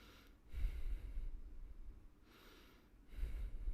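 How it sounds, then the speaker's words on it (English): Loud deliberate breaths blown close into a microphone during a live stream, two heavy airy puffs separated by a quiet pause, alone without talk. "I'm gonna breathe really loud."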